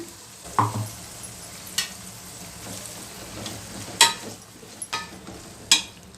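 Steady frying sizzle of spice paste in a pan while making paneer masala, with occasional sharp scrapes and clicks of a spatula stirring.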